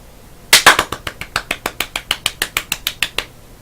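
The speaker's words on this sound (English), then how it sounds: "Applause, please." Sharp, close hand claps in a steady even rhythm, roughly eighteen in a row, from an audience for a comedy show, starting loud and fading slightly before stopping abruptly.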